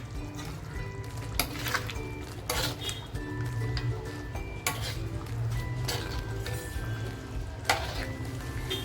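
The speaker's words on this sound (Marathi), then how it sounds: "आणि पाच मिनटासाठी फक्त हे मटण शिजवून देते" Mutton cooking in a pan, with a spoon clinking and scraping against the metal in irregular strokes over a soft, steady sizzle; close and moderately loud.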